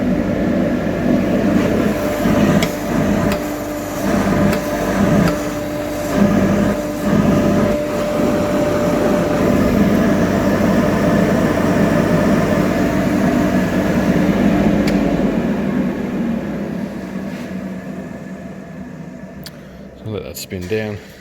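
Carbatec workshop dust extractor running with a modified filter: a steady loud motor and airflow roar with a constant hum lasts throughout, then slowly winds down near the end, with someone talking over it in the first part.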